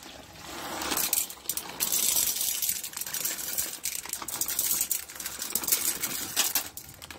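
Dry popcorn kernels pour into a pressure cooker of melted butter, making a dense, close, hard clattering and rattling that runs steadily for several seconds.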